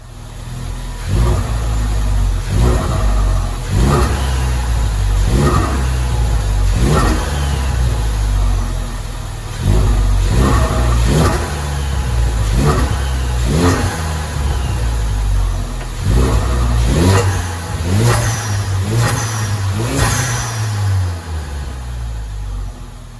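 A Ford Focus RS engine fitted with a GFB DV+ recirculation valve and a Cobb sound suppression chamber revs repeatedly, with about a dozen sharp throttle blips, each ending in a fluttering whoosh, over a steady idle.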